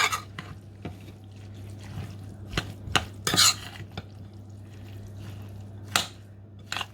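Onion being stirred in a pan by a home cook: scattered scrapes and clinks of a utensil against the pan over a low steady hum, fairly quiet and close, with no talking.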